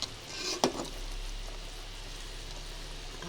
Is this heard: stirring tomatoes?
yes